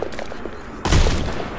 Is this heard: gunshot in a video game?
yes